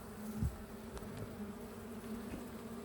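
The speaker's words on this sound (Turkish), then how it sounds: "Çünkü uçabilen, rahat uçabilen bir ana arıyı rahatsız etmek kovan terkine sebebiyet verir arkadaşlar." Honey bees around beehives make a steady close drone, with individual buzzes passing nearby over a continuous hum.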